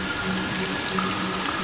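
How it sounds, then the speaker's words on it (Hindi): Heavy rain falling steadily on a surface, a dense, even patter and hiss with no pauses, set under a Hindi horror story. "अगली रात गांव में फिर से तेज बारिश शुरू होती है।"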